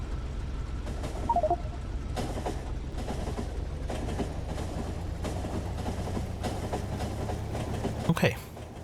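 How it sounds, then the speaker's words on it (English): Train rolling along rails in the Factorio video game, a steady low rumble with repeated rhythmic clacks and a brief sharp clunk near the end, continuous and even in level. "Let's catch the train back."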